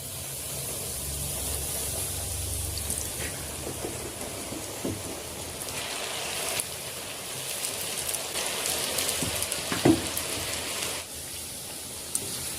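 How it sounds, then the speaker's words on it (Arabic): Homemade pasta snacks frying in hot oil, giving a continuous close crackling sizzle like steady rain with scattered sharper pops. "هجلفها كده يا حبايبي واسيبها في الزيت لما تاخد اللون الذهبي وتتجرمش خالص"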